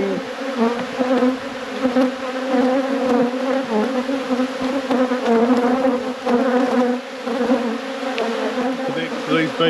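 Honey bees swarm loudly around an opened hive box, a dense, continuous buzzing hum with shifting pitches as many insects fly close by, steady throughout with no talking.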